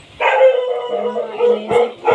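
A dog barks and whines up close, a couple of short yips and drawn-out whimpering sounds in quick succession.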